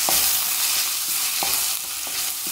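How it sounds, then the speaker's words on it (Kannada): Chopped garlic frying in a pan while being stirred: a steady hiss with a few soft scraping strokes of the spoon, up close and with no talking. "ಬೆಳ್ಳುಳ್ಳಿಯನ್ನು 1-2 ನಿಮಿಷ ಕೈ ಆಡಿಸ್ಕೊಂಡು ಚೆನ್ನಾಗಿ ಈ ಥರ ಕೈ ಆಡ್ಕೋಬೇಕಾಗತ್ತೆ 1 ನಿಮಿಷ"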